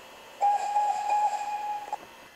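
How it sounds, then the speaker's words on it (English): A steam locomotive whistle blows once, a steady, clear, moderately loud tone held for about a second and a half over faint hissing background. "blowing his whistle"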